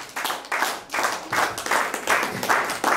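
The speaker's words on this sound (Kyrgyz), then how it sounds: "жакшылап кол чаап белекти тапшырып коелу" An audience at a book presentation claps steadily and warmly, a dense close round of applause with rhythmic swells throughout.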